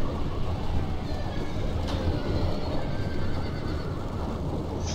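Horses whinny amid a Divide and Conquer battle in a strategy game, a high neigh rising over a steady, dense wash of combat noise, with another faint call near the end.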